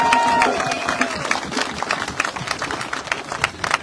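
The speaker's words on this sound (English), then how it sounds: "can you all give yourselves a round of applause for making the effort to come today?" A crowd at an outdoor Extinction Rebellion gathering at Farnborough Airport applauds, a dense, steady patter of many hands that stays moderately loud and then slowly thins out.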